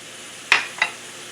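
Six apples drop into melted butter in a pan, producing two brief, close sizzling splashes a fraction of a second apart, then a quiet background.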